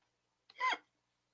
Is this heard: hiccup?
yes